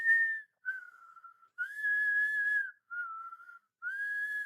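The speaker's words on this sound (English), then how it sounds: "I'm whistling" A person whistles a simple tune alone, in clear, fairly close phrases that alternate between higher and lower held notes, with short pauses between them.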